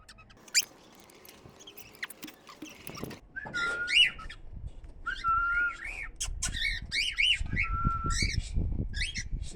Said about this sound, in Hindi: सबसे पहले तोते को अमरूद देते हैं।